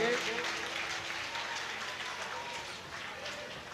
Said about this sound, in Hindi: सभी लोग जोरदार ताली से बजाकर दादी सम्मान बढ़ाएंगे।